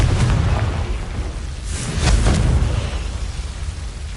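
A Confringo blasting spell goes off in Hogwarts Legacy as a loud, rumbling explosion. A second deep boom swells near the middle and then fades into a low roar.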